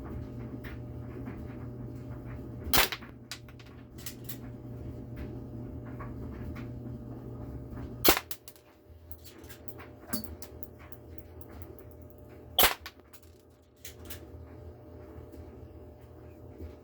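Shots from a GameFace Stinger P311 airsoft pistol, three sharp, loud isolated cracks spaced several seconds apart over a steady low background hum.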